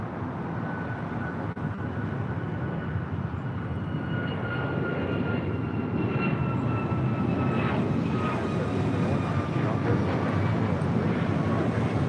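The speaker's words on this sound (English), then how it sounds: "This is Alaska Airlines 1412 taking off to Liberia on a MAX 9" An Alaska Airlines Boeing 737 MAX 9 takes off from LAX, with a loud, continuous jet engine roar and faint whining tones that rise and shift in pitch as the airliner passes, heard alone without talk.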